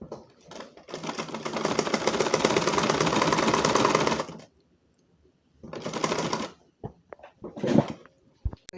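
Sewing machine stitching fabric for a dinner-collar kameez, a long rapid burst of needle chatter followed by shorter stop-start runs, close and alone.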